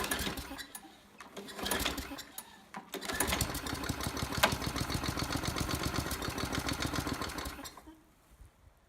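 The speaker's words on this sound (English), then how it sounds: "that fairly lazy start attempt was burning off the fuel I injected right into the carburetor" A Craftsman lawn mower engine with fuel squirted into the carburetor sputters in a lazy start attempt, with a few coughs followed by several seconds of rapid chugging that fades back out.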